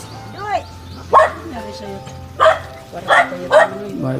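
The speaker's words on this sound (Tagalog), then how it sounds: "Buti mabait yung mga aso, ano?" A few scattered dog barks ring out nearby outside a house in the Philippines, spaced irregularly, with voices talking in Tagalog in the background.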